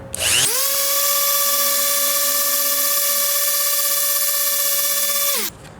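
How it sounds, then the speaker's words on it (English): A loud power sander whines up to a steady high-pitched drone, holding constant for about five seconds before spinning down, finish-sanding small ear plugs with 120 and 220 grit. "I'm just going to do a little bit of finishing sanding with 120 and 220"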